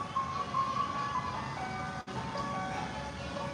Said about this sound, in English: Why we gotta get the ice cream truck?